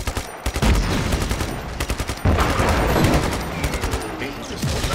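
Rapid three-shot bursts of gunfire in Just Cause 3 crackle continuously and loudly, repeated bursts layered over dense action noise with brief gaps between volleys.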